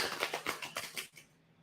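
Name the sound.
tarot cards being shuffled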